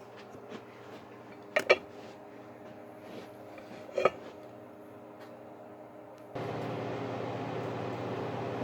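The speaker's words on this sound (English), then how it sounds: "Sorry for the noise, but I got to put the exhaust fan on" A kitchen exhaust fan switches on partway through, replacing quiet room tone and a few clinks of dishes with a steady, broad whooshing hum that continues to the end.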